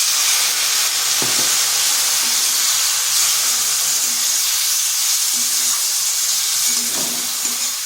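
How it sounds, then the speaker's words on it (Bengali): A splash of water hitting a hot pan of egg and flat beans sets off a steady, loud steamy hiss and sizzle that holds throughout, with a few soft clinks and scrapes underneath. "এখানে সামান্য একটু জল দিচ্ছি"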